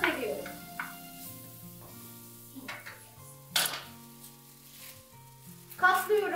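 Leeks cooking down in a pan give a soft, intermittent sizzle broken by a few stirring clinks and scrapes, with a voice and tonal background sounds running alongside.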